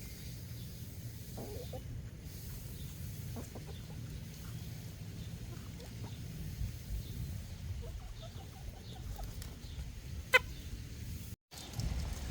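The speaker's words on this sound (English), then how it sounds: "let's enjoy these chickens, enjoying some watermelon rind." Backyard chickens feed on watermelon rind, giving a few soft clucks and scattered pecking sounds over a low outdoor hum, with one sharp louder note near the end.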